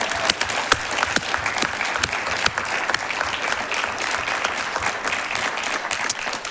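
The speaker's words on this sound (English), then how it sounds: "I want to give the committee another round of applause, too." A crowd at a symposium applauds steadily for several seconds, with dense clapping that continues without breaks at a moderate distance.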